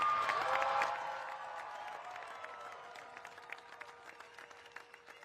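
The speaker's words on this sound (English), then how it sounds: "Let's give a big round of applause for all of our Wahine." A crowd at the Eddie Aikau big-wave surfing invitational applauds and cheers for the women surfers, loud at first, then fading into scattered claps with a tonal ringing beneath.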